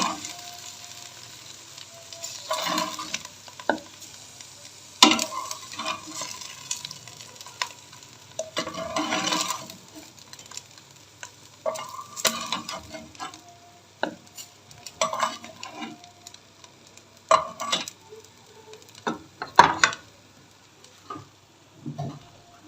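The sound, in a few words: fried okra being taken out of the frying pan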